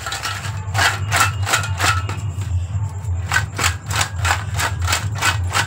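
Taro chips being tossed with a spoonful of spice mix, making a steady run of crisp, rattling scrapes at a brisk, even rhythm, close and fairly loud, with a brief pause midway.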